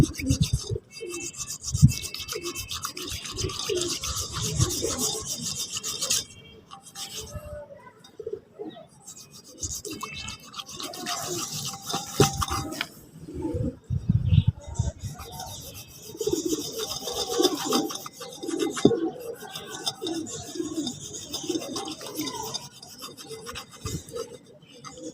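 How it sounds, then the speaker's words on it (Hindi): Almonds rubbed together by hand give a close, gritty, rasping scrape that comes in uneven bursts with brief pauses, while pigeons coo faintly in the background. "एक आपने इस तरह रगड़ना है इसको, मैं बादाम रगड़ लेता हूँ चारों।"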